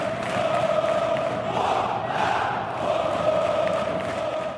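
Botafogo football supporters in a stadium cheer and chant as a dense, distant crowd roar that swells and falls slightly.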